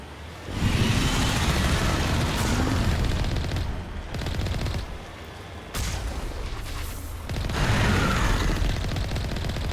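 Rapid machine-gun bursts and heavy cannon blasts from a vehicle in the video game Mass Effect 1 come in dense, loud stretches with short gaps between them, and no one talks over the fire.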